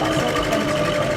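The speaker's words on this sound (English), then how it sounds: "we got to do it on the sewing machine" A sewing machine runs steadily at a sewing session in an arts centre café, its even mechanical whir continuous and fairly loud with no pause throughout.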